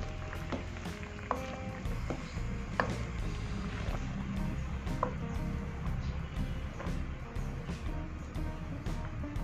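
Lemongrass and spices are stirred into a coconut milk curry with tofu, the spoon tapping and scraping the pot in irregular knocks over a low simmering bubble.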